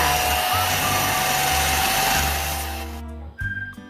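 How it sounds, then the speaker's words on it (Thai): An electric mixer whips fresh egg whites to a foam for cloud bread, a loud steady motor whine that runs unbroken for about three seconds, then cuts off, followed by a light clatter. "ตีให้ขึ้นฟองเลยค่ะ"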